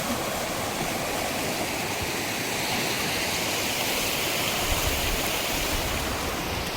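Water flowing right beside the listener on farmland, a continuous loud rushing wash with no breaks and no voices.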